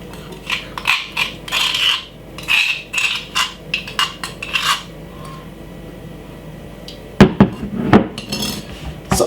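A utensil scrapes food out of a dish in a quick series of short scraping strokes and light clinks, ending in a louder clatter near the end.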